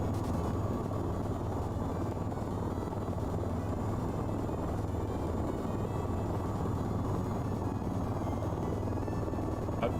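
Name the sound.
helicopter flying at full throttle in VTOL VR video game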